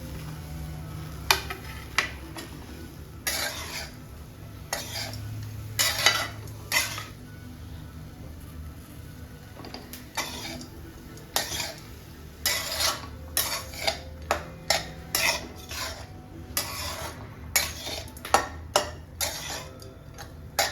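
Lemon rice (chitranna) being mixed in a pan, with a long run of irregular metallic clinks and scrapes from a spoon against the pan, some sharper than others, and no talking.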